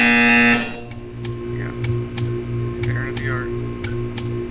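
A loud, harsh buzzer in the video game Portal 2 blares for about half a second at the start, followed by faint rhythmic clicks and ticks over a low hum.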